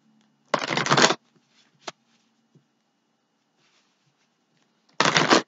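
Two quick riffles of playing cards being shuffled, one at the start and one at the end, with small taps and near silence between.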